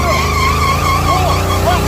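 G-body Buick Regal doing a burnout, its engine held high and steady while the spinning tyres squeal in a loud, continuous wail throughout.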